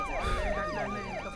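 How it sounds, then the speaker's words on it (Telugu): Ambulance siren in a film scene, a wailing electronic sweep repeating about every third of a second, steady and moderately close with no talk over it. "అంబులెన్స్?"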